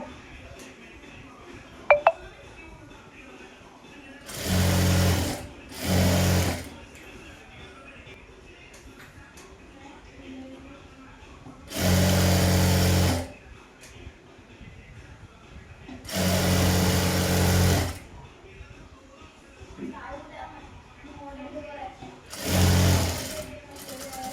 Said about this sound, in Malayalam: നമുക്ക് ഒരു സ്റ്റിച്ച് കൂടി അടിച്ചു കൊടുക്കാം